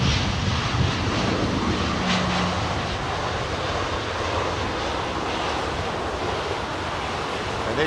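A Boeing 737 arriving at London Heathrow on a windy day, a loud continuous roaring rush of engine noise and wind that stays steady throughout.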